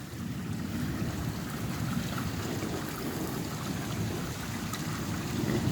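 Heavy rain pours steadily through a thunderstorm, a dense, unbroken hiss with a deep rumbling wash underneath that stays close and even throughout, with no voices.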